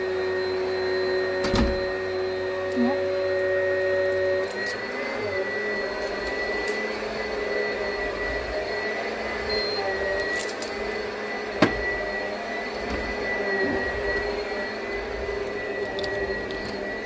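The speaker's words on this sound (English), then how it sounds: "sounds like somebody is vacuuming out there" A vacuum cleaner droning in another room, a constant mechanical whine with a steady hum underneath and a few faint clicks and thumps, lasting the whole stretch with no talking.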